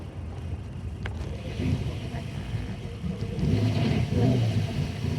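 A 1967 Ford Mustang fastback idling at a stop, its engine rough and struggling to keep running: a low, uneven rumble that surges louder partway through, heard up close with no talk.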